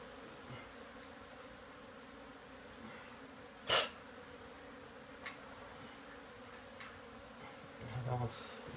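Honeybees buzz steadily during a hive removal from a garage in Edinburg, Texas. The swarm's drone is close and continuous, broken by a sharp knock and a few faint bumps.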